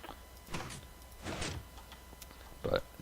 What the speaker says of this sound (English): Here's our lazy man's piston door.